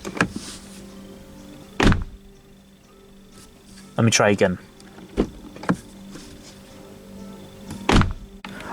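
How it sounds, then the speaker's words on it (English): A BMW iX3 car door is shut several times, giving heavy thunks with a rattling, shaking quality spaced across the stretch, close by; a person briefly speaks between closings. "This entire door vibrates. This entire thing shakes."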